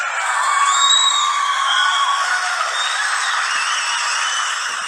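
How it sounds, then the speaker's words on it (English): Studio audience cheering and applauding at a television show, a loud, sustained wash of claps, whoops and shouts holding steady for several seconds without any speech over it. "How about a round of applause,"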